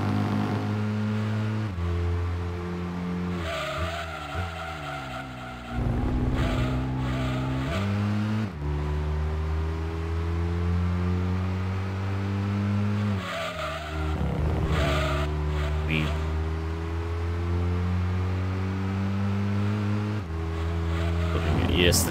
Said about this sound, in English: this is the car with the clipping exhaust